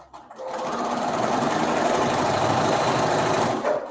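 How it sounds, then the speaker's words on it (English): A sewing machine stitches fabric pieces end to end in a craft studio, running at a continuous fast whirring hum for several seconds, close and steady before slowing at the end. "now I'm just sewing them end to end to end."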